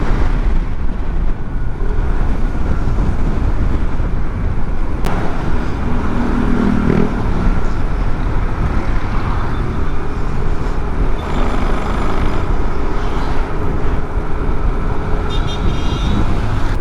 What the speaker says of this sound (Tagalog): Dami ng truck na nadaan.